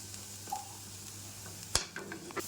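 Curry leaves, whole garlic and onion fry golden in a pan with a soft, quiet sizzle, plus one clear clank of a utensil against the pan near the end.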